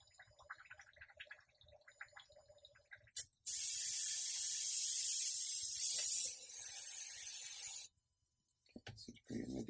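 Airbrush spraying thinned red paint onto a 1/4 scale Hulk sculpture, a loud steady hiss lasting about four seconds that drops slightly in level before cutting off, with quiet handling noises before and after.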